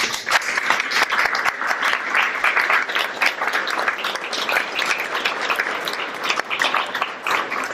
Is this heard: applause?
yes